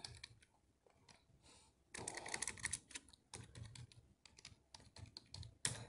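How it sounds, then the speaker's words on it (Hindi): Keys clatter on a computer keyboard as a password is entered, a quick irregular run of close clicks and taps with louder bursts, with no talking over them. "फिर जैसे मैं पासवर्ड देता हूँ"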